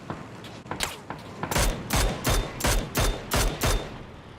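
Gunfire from the video game PUBG: a rapid burst of about eight loud, sharp shots in steady rhythm, preceded by fainter, more distant shots, with no talking.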